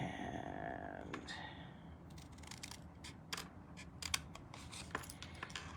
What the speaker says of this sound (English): And now I can take my snips